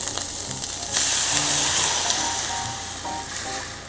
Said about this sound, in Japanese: 軽く炒めます。